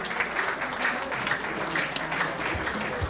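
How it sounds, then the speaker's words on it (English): An audience applauds at a launch ceremony in New York City, a steady wash of clapping heard from a middle distance, holding even throughout with no voices on top. "A big round of applause for Gloria."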